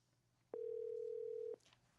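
A telephone line tone sounds while a call is placed to a government official during a live Korean radio broadcast: a single steady, clear tone lasting about a second over quiet background, with no talk.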